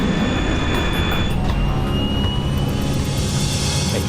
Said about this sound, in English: The plane lifts off the runway.